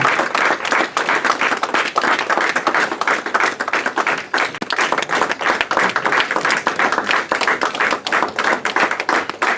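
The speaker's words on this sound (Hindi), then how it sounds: "उनके लिए भी तालियों से अभिनंदन हो।" An audience at an office farewell function gives sustained, loud applause, a thick wash of many hands clapping steadily throughout with no break.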